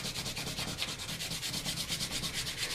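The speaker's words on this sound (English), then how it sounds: "we're going to start with 100 grit sandpaper. And we're going to sand out a lot of these small scratches in here" Wood being hand-sanded with 100 grit sandpaper to remove small scratches, a close, steady back-and-forth rasping in quick even strokes throughout, with no talking.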